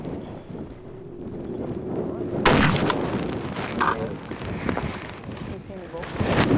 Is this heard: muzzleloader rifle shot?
yes